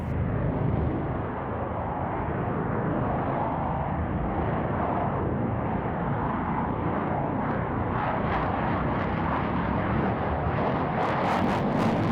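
A MiG-29M OVT jet flies display manoeuvres at an air show, including a Super Cobra at a very high angle of attack, with a loud continuous engine roar that fills the whole stretch and shifts slightly as it passes.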